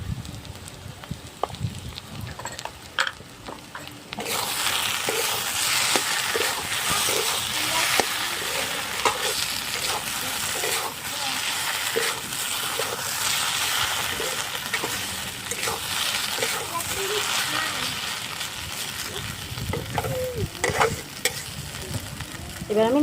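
Vegetarian papaya ghonto with chickpeas sizzles steadily in a pan as garam masala is stirred in, a dense continuous frying hiss with scraping stirs, quieter at first and then loud and sustained.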